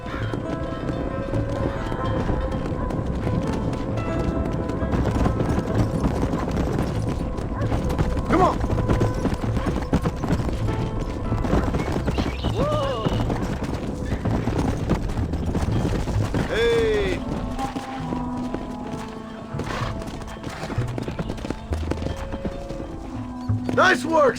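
Horses gallop with rhythmic clip-clop hooves throughout a Red Dead Redemption ranch scene, with an occasional whinny, wind noise and game voices talking over the hoofbeats.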